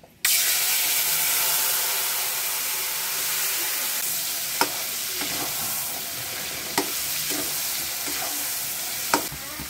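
Young jackfruit sizzles loudly in a hot pan with nigella seeds and dried chillies as it is stirred, with a few sharp scraping clicks of a utensil over the steady hiss.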